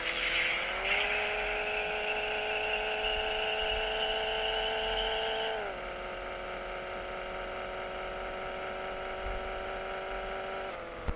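A Pixel Car Racer game car revs in a steady rising whine toward 9,000 RPM, then drops pitch on a shift under nitrous, with a synthetic, continuous engine tone and no talk.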